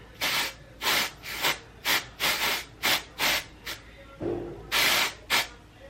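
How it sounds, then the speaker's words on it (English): Repeated short bursts of aerosol hair color spray hiss close by, about a dozen quick sprays in an uneven rhythm with brief pauses between. "Color spray."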